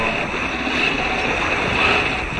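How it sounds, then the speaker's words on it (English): Sea waves wash steadily around a sailboat racing offshore, a continuous loud rush mixed with wind noise on the microphone, with no voices. "The waves are calming down."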